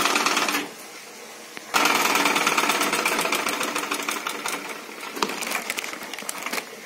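A sewing machine stitches blouse fabric with a fast, steady mechanical rattle that pauses briefly, then runs on close and continuous with no talking.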